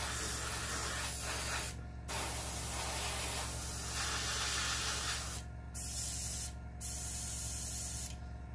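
Compressed air from a compressor hisses through an airbrush spraying a Dragon StuG.III Ausf.C/D scale model kit, a close, steady spray broken by several short pauses as the trigger is released.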